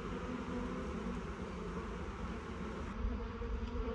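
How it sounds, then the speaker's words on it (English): A honey bee swarm drones in a dense, continuous buzz as the bees crawl and fly into a new hive box outdoors, loud and close with no talking. "any flying bees hopefully will now land in the box and go in with the other bees"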